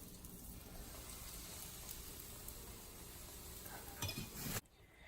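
Egg-battered cauliflower fries in hot cooking oil with a steady, faint hiss and crackle, and a louder burst of sizzling and a clatter just before the sound stops suddenly.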